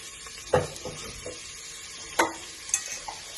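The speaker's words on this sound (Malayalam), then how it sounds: "അതിലേക്ക് നമുക്ക് ഈ സവാള ഇട്ട് കൊടുക്കാം" Onions fry in oil in a pressure cooker on the stove for chicken biryani, with a soft, steady sizzle broken by a few sharp stirring scrapes against the metal.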